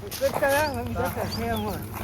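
A dog gives a few short, whining barks up close during a kite-flying festival, mixed in with talking.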